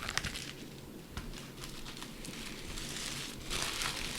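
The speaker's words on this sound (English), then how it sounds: "Packed in some beautiful tissue paper." Tissue paper crinkles and rustles softly up close as a bead shipment is unpacked. The crackling runs continuously and grows a little louder near the end, with no one speaking.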